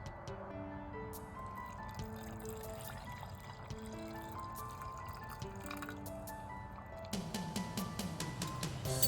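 Liquid is poured into a jar over apple scraps for apple-scrap vinegar, a steady close trickle with bright dripping and bubbling tones that fill faster and louder toward the end, with no talking.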